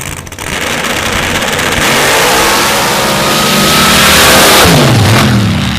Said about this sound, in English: The nitrous machine, the 800-plus cubic inch nitrous injected machine